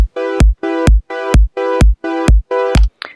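A synth tone is chopped on and off by a square-wave autopan in Ableton, six even pulses each ending with a short low thump, sounding sharply gated.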